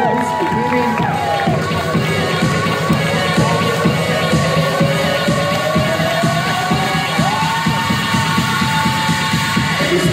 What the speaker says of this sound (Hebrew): אפשר לקבל קצת מחיאות כפיים